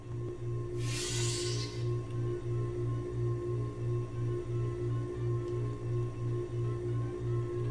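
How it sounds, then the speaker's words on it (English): Loud, steady electrical hum in a Portal 2: Nostalgia level throbs in an even, regular pulse, with a brief airy whoosh near the start. "Ooh, it's quite loud, that hum."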